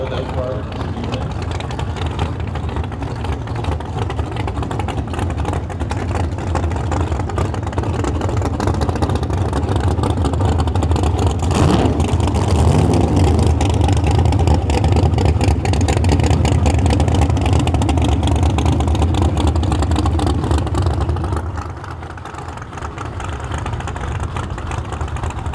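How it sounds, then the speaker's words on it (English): Drag racing cars doing burnouts at a Canada Heads Up Series event, a loud sustained engine roar that swells in the middle, dips briefly near the end, then carries on, with commentary over it. "Nice burnouts up there."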